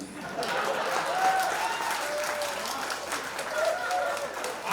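An indoor crowd at an anniversary celebration claps in a continuous, moderate wash of applause, with voices and calls mixed in beneath the clapping.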